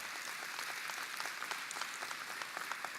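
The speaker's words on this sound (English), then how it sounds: "He deserves a great round of applause." A keynote audience gives a sustained round of applause to welcome a speaker: dense, steady clapping from many hands at an even level throughout, with no voices over it.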